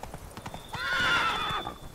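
Geralt's horse Roach in The Witcher 3: Blood and Wine, with soft hoof clops followed by a loud drawn-out neigh close by, lasting about a second before fading.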